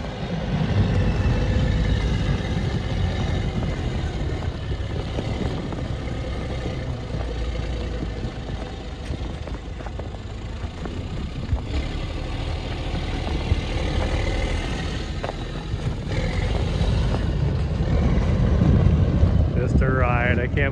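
An Argo Sherp Pro XT amphibious vehicle drives hard, its engine a rough, loud rumble heard up close under constant wind buffeting on the microphone, with the roar rising toward the end.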